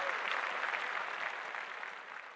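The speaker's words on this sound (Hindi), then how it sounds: "तालियां तालियां तालियां।" A crowd claps steadily and continuously, a dense wash of applause with no talking over it.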